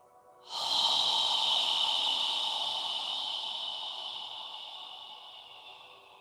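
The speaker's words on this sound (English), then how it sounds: "exhale through your mouth. As you exhale, imagine you're fogging a mirror with your breath" A slow, steady exhale through the mouth during a yoga session, the soft breathy hiss rising at once and then fading gradually over several seconds, close and alone.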